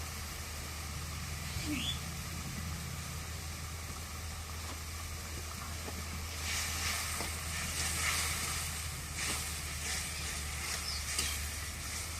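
Ginger paste sizzling in a pan over a clay stove in a rural outdoor kitchen, a steady hiss of frying that grows brighter and louder partway through, with faint clinks and stirring over low background rumble.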